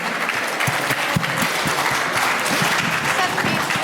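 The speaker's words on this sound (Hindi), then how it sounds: "और एक जोरदार तालियां हमारे अमर सर के लिए" A crowd of children and adults claps hard and steadily at an India Day Hindi school gathering on peace, the dense, close applause filling the whole stretch with no voices over it.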